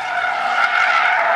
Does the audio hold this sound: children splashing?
no